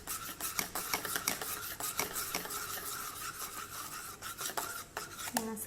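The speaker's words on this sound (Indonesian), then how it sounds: "lalu diaduk." Egg, sugar and coconut milk batter for Bugis sikaporo cake being stirred in a bowl, a steady run of close scraping and rubbing strokes with faint clinks throughout.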